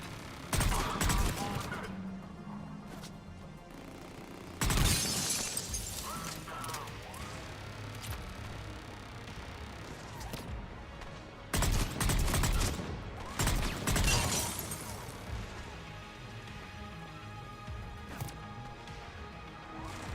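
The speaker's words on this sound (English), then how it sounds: "Who's shooting at me?" Mass Effect combat with bursts of rapid weapon fire and crashing impacts arriving in several loud clusters, separated by quieter stretches of ambient game sound.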